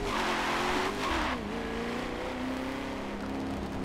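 A race car engine in a sim racing game revs out hard in third gear, its pitch climbing, dropping at a shift, then holding a loud, steady, close drone with no talk.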